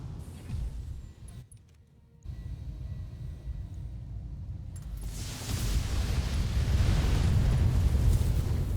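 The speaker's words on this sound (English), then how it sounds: "Okay, Wolverine down. Mech destroyed." Destroyed mech exploding in the BattleTech video game: a loud, sustained roaring blast that swells and stays heavy with rumbling low-end for several seconds after a brief dip, with no talk over it.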